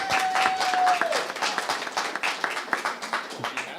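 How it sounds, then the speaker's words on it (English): An audience at a church service claps, giving a big round of applause. Dense, steady clapping from a crowd fills the room, with a brief whistle near the start and the clapping thinning slightly toward the end. "Big round of applause."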